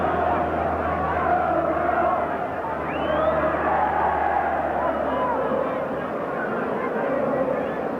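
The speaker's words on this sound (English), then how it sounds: "The whole crowd in good song now, urging their side on." Football crowd at the 1982 Yorkshire Cup final between Bradford and Hull, a dense sustained roar of many voices singing and chanting together, steady and loud throughout with no break.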